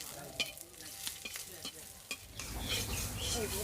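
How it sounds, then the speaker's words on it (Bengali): Dried red chillies fry in hot oil in a rustic village kitchen, a steady sizzle swelling louder toward the end, with a few sharp clinks of a spatula against the pan early on. "এই যে শুকনো লঙ্কা দিচ্ছি ভাজা হলি পরে এর সঙ্গে করে দেবো"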